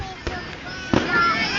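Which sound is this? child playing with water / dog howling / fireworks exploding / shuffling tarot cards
fireworks exploding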